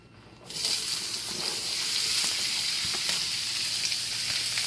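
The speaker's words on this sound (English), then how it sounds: "So right now, I'm just going to add the onions and the pepper." Onions and peppers hit a hot pan, a quiet moment giving way to a sudden, steady, close sizzle that keeps going as they sauté.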